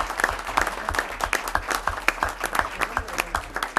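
An audience at a Sacramento Regional Transit District meeting gives steady, moderately loud applause for an employee's 30 years of service, a rhythmic patter of many hands clapping with no talk over it.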